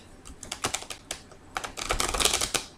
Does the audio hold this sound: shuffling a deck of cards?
yes